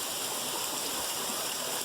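A first waterfall and its stream along a hiking trail pour out a steady, broad rush of water, a continuous hiss that stays even throughout with no voices.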